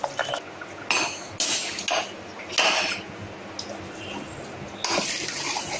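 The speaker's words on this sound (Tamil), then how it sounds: "இப்போ நம்ம குக்கரை ஓப்பன் பண்ணி பார்த்துடலாம்" A pressure cooker lid being opened after cooking sambar rice, heard as several close metallic clanks and clatters of the lid and pot, separated by brief pauses.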